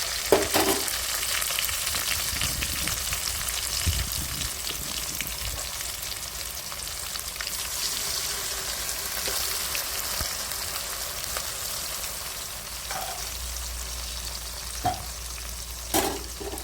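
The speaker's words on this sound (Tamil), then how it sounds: "வெங்காயம் மிளகாய் இந்த அளவுக்கு வதங்கினதுக்கப்புறம் இஞ்சி பூண்டு சேர்த்துக்கலாம்." Onions, chilies and ginger-garlic sautéing in a pan for Pallipalayam chicken, giving a constant close sizzle like light rain with soft stirring scrapes and a few louder clicks near the end.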